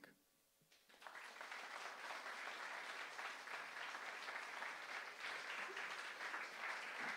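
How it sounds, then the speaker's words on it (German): Audience applause at a poetry slam finale in Wuppertal: after a brief quiet moment, a full crowd breaks into dense, steady clapping that holds at an even level throughout. "Applaus bitte."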